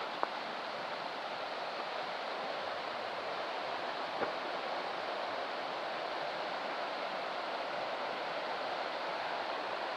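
The Sturgeon River, running a little low, flows with a steady, broadband rush, constant and unchanging throughout, with no voices.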